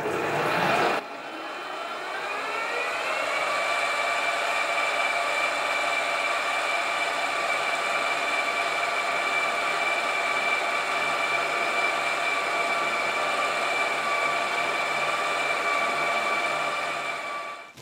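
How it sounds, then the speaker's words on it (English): Metal lathe running while centre drilling the end of a cylinder sleeve workpiece, motor ramping up then holding a steady, close mechanical whine with a faint cutting hum underneath, no voices. "Centre drill."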